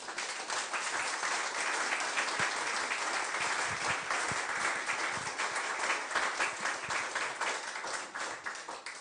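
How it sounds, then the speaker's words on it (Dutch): Sustained, hearty applause for a guest speaker at a debate café, a thick even wash of many hands clapping throughout with no voices on top. "Dat we een groot applaus kunnen geven aan Joost"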